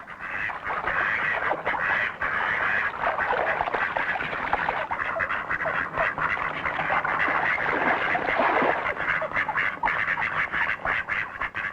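Male ducks quacking in a dense, steady chorus as rival males are chased off, with harsh calls overlapping continuously at moderate distance.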